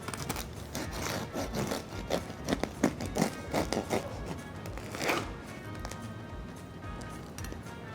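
A knife saws through the crust of a cooled sourdough loaf, giving a run of crisp, crackly scraping and crunching bursts close by, with no talking.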